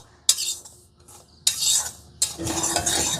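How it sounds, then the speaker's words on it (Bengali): Semolina being stirred in a dry pan during roasting, a utensil scraping and scratching in three separate bursts with short pauses between them, close and fairly loud with no talking. "শুকনো খোলায় সুজিটাকে দু তিন মিনিট মতন হালকা করে একটু নেড়ে চেড়ে ভেজে নেবো"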